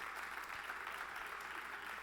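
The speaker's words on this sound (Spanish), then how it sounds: "Alguien dele un aplauso al Señor," A church congregation claps together, a dense, even wash of applause heard from within the crowd at low level and sustained throughout.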